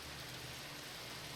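Rain in the Minecraft Sky Factory 3 video game, a constant soft hiss of falling rain, quiet and even throughout with no other sounds.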